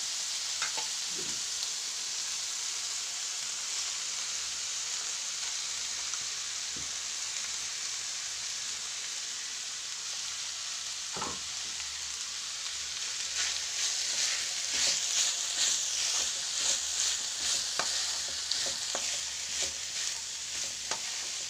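Broad beans stir-fried with ground coconut in a pan, giving a continuous soft sizzle with scattered scraping stirs of a spoon that grow busier toward the end, close and without talk.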